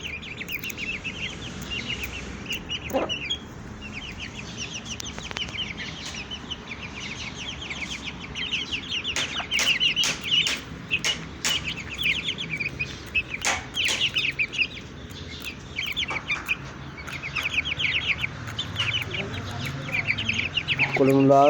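Hen and her chicks cluck and peep steadily while pecking at potatoes on a farm, small bursts of chirping and soft clucks repeating throughout at close range, with faint rustling and a louder call near the end.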